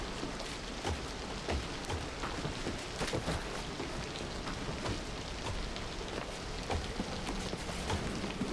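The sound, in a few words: acid rain falling in the video game The Tarnishing of Juxtia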